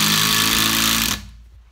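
A Parkside PDSSA 20-Li A1 cordless impact driver, 180 Nm, hammers a screw with a loud, close, continuous rattling burst that stops abruptly just after a second, leaving near silence.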